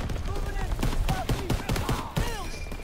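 Rapid volleys of WW2-era gunfire in a Call of Duty campaign battle, sharp repeated shots crackling close by under excited talking.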